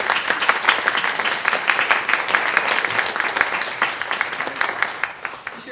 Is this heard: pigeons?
no